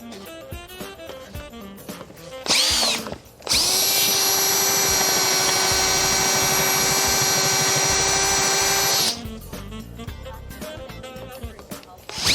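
An overheating power drill whines at a steady high pitch for several seconds in a garage during brake and belt work on a Nissan 200SX, loud and close, with shorter bursts and rattling tool sounds before and after.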